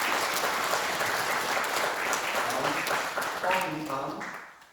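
Applause at a Buddhist temple New Year ceremony at Hwaeomsa on Jirisan, a steady crowd clapping that fades out toward the end, with a voice beginning to speak over its final seconds.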